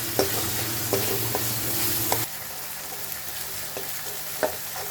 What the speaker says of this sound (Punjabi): ਹੁਣ ਆਪਾਂ ਇਹਨਾਂ ਨੂੰ ਥੋੜੀ ਤੇਜ਼ ਗੈਸ ਤੇ ਨਾ ਤੇ ਬਰਾਊਨ ਕਰ ਲਾਂਗੇ ਪਿਆਜ਼ ਨੂੰ